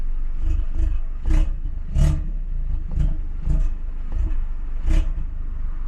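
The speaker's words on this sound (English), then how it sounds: "how fire this car sounds from the outside" BMW G20 330i with a 320 hp turbo four-cylinder, its engine and exhaust heard from outside the car as a loud, deep, steady drone with repeated swelling bursts and pops, free of any talk.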